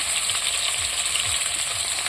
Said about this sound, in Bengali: মাছটা কীরকম ফুটছে দেখতে পাচ্ছ তোমরা